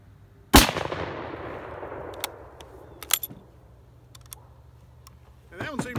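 A single sharp crack from a K98 rifle firing one commercial cartridge, loud and close with a ringing decay, followed by faint clicks and handling noises and a voice at the end.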